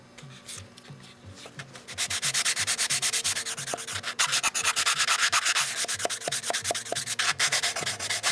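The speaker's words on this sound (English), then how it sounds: "it's a little more work grinding away at it than it would be if we just left it balsa wood" Power sanding grinds down the plywood-lined edges of a balsa wood model aircraft: a quiet start, then a loud, steady rasping that pulses rhythmically, with a few short ticks.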